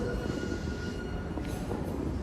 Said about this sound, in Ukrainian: Але це не просто метро, це РР, а це як міні-поїзд такий.